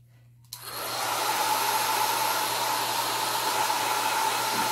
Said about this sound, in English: I'm going to put the blow dryer over that.